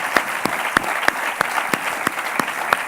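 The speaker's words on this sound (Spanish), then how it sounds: "podemos despedir a Tomás Alcoberro con un gran aplauso" An audience at a forum talk applauds, with loud, evenly spaced sharp claps standing out over a continuous wash of clapping for the whole stretch.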